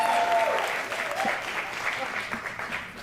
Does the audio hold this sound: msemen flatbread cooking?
no